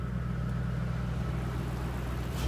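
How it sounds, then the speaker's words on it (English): A 2010 Ford Mustang GT V8 idling steadily with a deep low rumble, close by, swelling briefly into a short rev at the very end. "Go ahead and give her a little tap for you so you can just hear the power in here."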